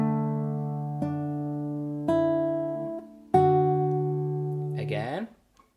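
Acoustic guitar picked fingerstyle through an arrangement: four plucked notes or dyads a second apart, each ringing and fading, then a short voice at the end.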